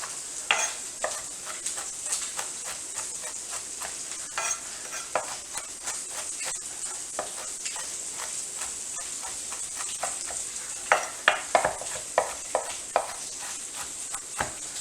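Food sizzles and crackles steadily in a pan, with occasional sharper pops and scraping stirs, no voices over it.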